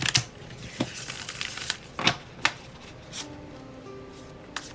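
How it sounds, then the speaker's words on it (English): Very thin, smooth tarot cards being shuffled by hand, giving quiet, sparse flicks and riffling clicks in short bursts with faint background sounds. "You'll hear me shuffle in just a short second."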